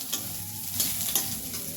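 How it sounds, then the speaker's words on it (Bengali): Potato, cauliflower and lentils stirred and fried in a pan for sago khichuri, a steady close sizzle with a few scraping stir strokes, no talk. "এখন এই যে নাড়াচাড়া করে নিচ্ছে, একটু মানে ভাজা ভাজা করে নেবে"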